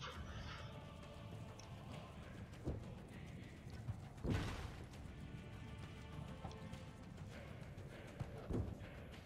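Horse hooves clip-clopping in the video game Assassin's Creed Brotherhood, a steady busy rhythm under dense game ambience with occasional louder impacts and crashes.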